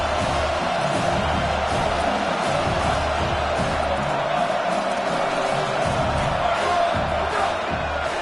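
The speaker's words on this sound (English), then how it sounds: "The crowd getting behind this defense as they try to get a stop in the red zone." A football stadium crowd roars steadily behind the home defense during a red-zone stand, a broad, continuous wash of cheering and shouting at a distance with no clear breaks.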